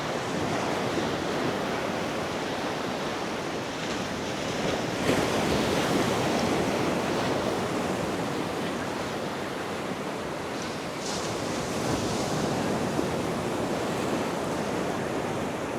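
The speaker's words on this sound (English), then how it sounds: "People coming down to look at the waves." Ocean waves break steadily on a beach in Mallorca, a continuous loud wash of surf with a few stronger surges, heard alone and close with no talking.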